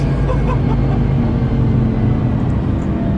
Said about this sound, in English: V10 noises plus turbo noises